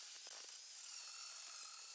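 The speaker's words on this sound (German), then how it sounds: "Dazu nehmen wir eine kleine Schrubbscheibe, der können wir das hier perfekt wegschleifen." An angle grinder fitted with a small grinding disc grinds off a weld seam at the jacking point of a Mercedes W124, giving a continuous high, hissing whine that stays even and unbroken throughout.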